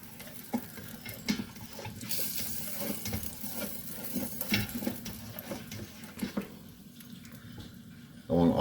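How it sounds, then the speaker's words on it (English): Butter melting over low heat in a thin pot, a faint steady sizzle and light crackle with occasional soft utensil clicks, ending in a louder abrupt noise. "I want all this butter melted down."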